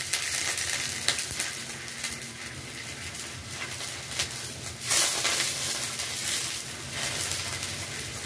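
Curry frying in a pan gives a steady, dense sizzle as water is added, with a brief louder hiss burst partway through, close and continuous with no talk.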